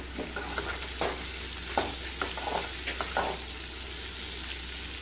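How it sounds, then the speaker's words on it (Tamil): Raw banana (vazhakkai) slices fry in oil alongside bitter gourd in a pan for vazhakkai varuval, giving a steady soft sizzle with a few light scraping stirs, close and with no talk. "அப்படியே எல்லாமே ஈவனாக உங்களுக்கு அந்த எண்ணெயில் வருபடும்."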